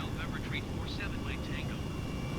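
An Airbus H135 helicopter in Flight Simulator 2020, flying around Chicago, gives a steady engine and rotor drone throughout with some warbling tonal sweeps on top.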